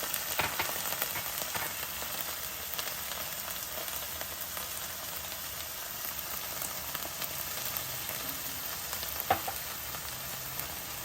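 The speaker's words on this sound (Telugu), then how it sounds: "ఇవన్నీ ఒకసారి తిప్పుకొని అల్లం వెల్లుల్లిపాయ పేస్ట్ పచ్చి వాసన పోవాలి" Onions fry in a pan with ginger garlic paste and a little turmeric, giving a soft, steady sizzle while a spoon stirs now and then with light scraping clicks.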